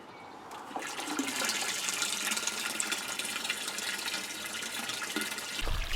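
Water spraying steadily as plants are watered in a greenhouse during a heatwave, a faint continuous hiss and splash that swells slightly near the end.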